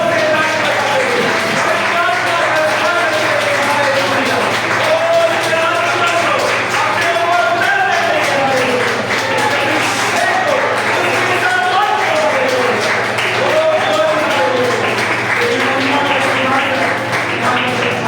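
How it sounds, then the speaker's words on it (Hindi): A congregation at a revival meeting in Muradabad clapping loudly and steadily for a long stretch, with a preacher's voice chanting and calling out over the rhythmic applause. "आइए ताली बजाते हुए यीशु मसीह का स्वागत करेंगे"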